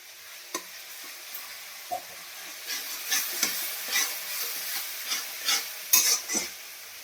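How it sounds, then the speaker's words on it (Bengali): Garlic paste and turmeric fry in a pan for chicken soup, with a soft sizzle under repeated scraping strokes of a spoon, loud and close, with no voices. "এর মধ্যে দিয়ে দেবো রসুন বাটা, তারপরে দিয়ে দেবো হলুদ গুঁড়ো, হালকা করে দেবো।"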